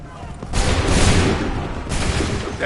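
Musket volley gunfire in Assassin's Creed 3, a dense crackling burst of many shots swelling near 0.5 seconds and a second volley near 1.9 seconds, loud and close, with shouted voices in the background.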